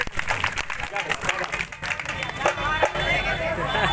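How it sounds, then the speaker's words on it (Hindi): A seated classroom audience claps on a teacher's request during a lesson, a dense steady patter of many hands close by with chatter and voices mixed in throughout. "एक बार ताली बजा दो।"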